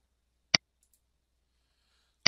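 A computer mouse gives two sharp, isolated clicks about two seconds apart in an otherwise quiet room.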